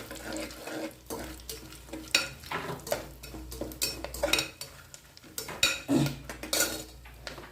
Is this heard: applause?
no